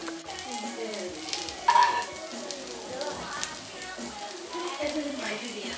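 Red onions sizzle on a barbecue grill, a steady crackling hiss close by with a brief louder flare, while people talk over it.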